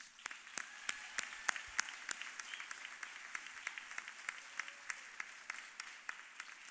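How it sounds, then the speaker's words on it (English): At a senior awards night, an audience gives a round of applause for the students, heard as sparse, distinct claps scattered irregularly over a soft background, faint and somewhat distant. "Let's give our kids one big round of applause."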